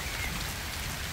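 Steady rain falling over a cornfield during a storm, a dense, even hiss of drops filling the brief stretch with no voices.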